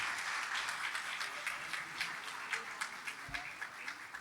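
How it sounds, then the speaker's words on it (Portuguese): An audience at an in-person association event applauds to welcome new members. Many people clap in a dense, lively stream, and a few sharper, distinct claps stand out as it continues for several seconds. "uma vibrante salva de palmas de boas-vindas para os nossos novos associados"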